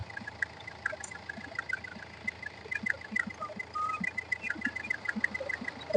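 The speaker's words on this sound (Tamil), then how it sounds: "இன்ஜின் நாய்ஸே இல்ல பாருங்க, அந்த அளவுக்கு தெளிவா இருக்குங்க, அட்டகாசமா இருக்குங்க இன்ஜின்" A Hyundai Verna CRDi diesel engine, a 2013 SX, idling with a steady low rumble and a faint, even ticking that stays close and moderately quiet throughout, with no voices.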